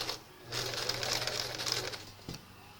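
A vintage JCPenney 0104 heavy duty sewing machine stitches in one run of under two seconds, a close, rapid mechanical whir and clatter that starts and stops cleanly.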